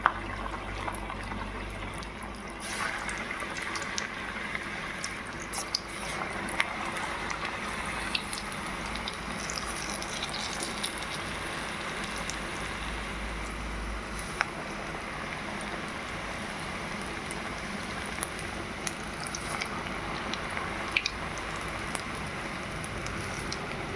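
Spinach bondas frying in hot oil, a steady close crackle and hiss of bubbling oil with scattered small pops throughout.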